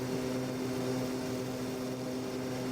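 A propeller airliner takes off in the Extreme Landings Pro flight game, its engine drone holding steady and loud throughout with no voices over it.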